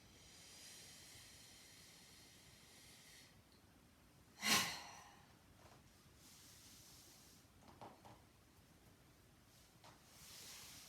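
A single deep breath drawn during a stretching session, one soft airy swell standing out briefly in an otherwise quiet room, followed by faint rustling.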